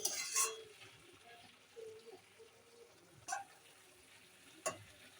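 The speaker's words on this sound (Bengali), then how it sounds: "টমেটোর আলুটা আমি আবার একটু কিছুক্ষণ নাড়াচাড়া করে নিলাম" Tomatoes and potatoes with greens get stirred in a pan, a few scattered scrapes and clinks of the utensil over a faint sizzle in an otherwise quiet kitchen.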